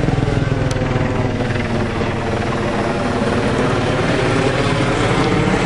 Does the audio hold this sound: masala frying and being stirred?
no